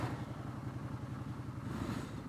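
A motorcycle riding at night through cold, rainy California coastal weather, its engine droning steadily and rhythmically with a slight rise in pitch toward the end as it works through the gears, no talk.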